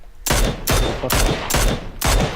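Gunfire in the battle royale game PUBG: Battlegrounds, five loud, sharp shots at a steady rhythm about half a second apart, each with a short ringing tail.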